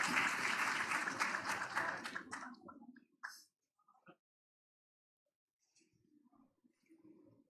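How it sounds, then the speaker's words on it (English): A big audience claps loudly in dense, sustained applause welcoming a choir at a medical conference opening ceremony, then the clapping fades out abruptly, leaving a few scattered claps and faint murmurs. "Please welcome them with a big round of applause for their performance."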